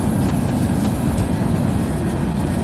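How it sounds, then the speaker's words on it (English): Long train rolling past outdoors, a loud steady rumble with rail noise and faint clickety-clack, continuous throughout with no talk. "Oh, this is a long train."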